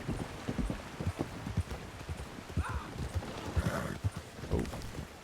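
Roach, a horse in a Wild West roleplay game, walks over a slippery bridge in Strawberry: steady, close hoof clip-clops in an even rhythm, with a faint snort or breath partway through.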